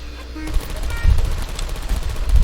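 A Portal 2 turret fires rapid, close bursts of gunfire with heavy low thumps that repeat unevenly over a couple of seconds.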